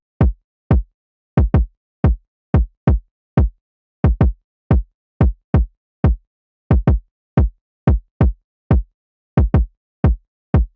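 Overdriven kick drum pattern for a beat, punchy isolated thumps in a syncopated rhythm with some quick doubled hits and silence between them, close and dry; the piano is not audible.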